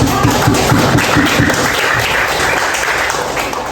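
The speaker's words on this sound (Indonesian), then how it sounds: "tepuk tangan dulu karena udah" Elementary classroom students clap their hands together, a loud, close burst of many quick claps that stays busy and continuous before thinning slightly toward the end, with no talking over it.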